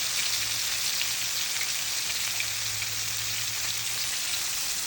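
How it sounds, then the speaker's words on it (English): Flour-coated chicken fries in hot oil with a steady, dense sizzle and crackle that holds even and close throughout, with no talking. "the flour is coming off and it's frying up."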